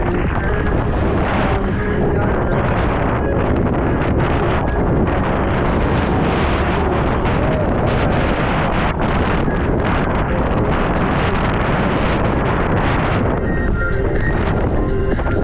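Evening wind buffets the microphone outdoors on a Crimean coastal route between Ordzhonikidze and Koktebel, a loud, continuous rumbling roar with gusty swells throughout and no other sounds.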